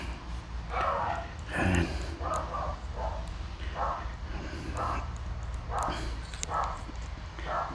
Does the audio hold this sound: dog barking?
yes